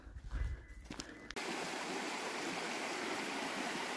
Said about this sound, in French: Il y a quand même des ruisseaux où il y a encore de l'eau.